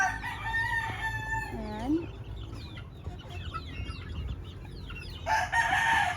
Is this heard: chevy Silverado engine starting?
no